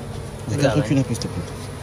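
Honey bees buzz at a hive in the Hatta mountains, a brief close hum that swells and fades over under two seconds, with faint background noise and no talking.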